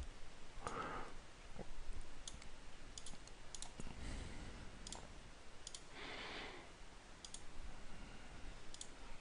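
Sharp mouse clicks during AutoCAD drafting work, scattered irregularly at close range with several isolated clicks and small bursts, fairly quiet against a soft room background.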